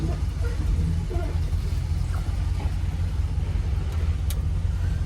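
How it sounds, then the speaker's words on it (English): A 1972 Buick Centurion idles and rolls slowly in reverse on a test drive, a steady low engine rumble throughout, close and fairly loud, with someone talking over it. "Let's go ahead, back her up, take her on this little quick test drive."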